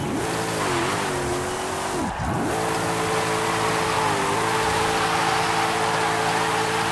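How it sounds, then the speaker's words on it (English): Muscle car in Forza Horizon 5 doing a burnout donut, loud steady engine drone at high revs with a brief dip and recovery, tires squealing continuously throughout. "Let's see what kind of burnout donut it does now."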